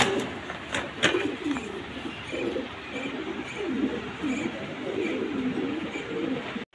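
A female fancy dove coos in a low, soft, repeated warbling rhythm at close range, over a steady background hiss and murmur.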